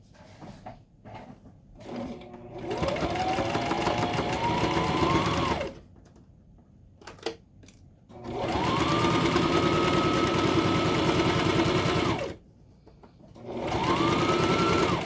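A sewing machine stitches a half-inch tote bag seam at 2.5 stitch length, running in three long steady bursts that rise in speed and hold a loud, even whir, separated by short quiet pauses with small handling clicks.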